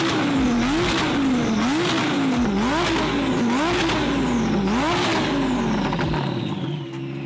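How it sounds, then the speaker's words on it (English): A Lamborghini Huracan fitted with a custom flame-spitting exhaust revs hard in repeated rising and falling blips, about six loud throttle pulls in a row with crackling pops, close and alone. "Just the sound of it, the turbo spooling."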